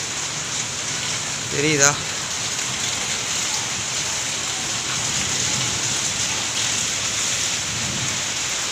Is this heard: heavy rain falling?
yes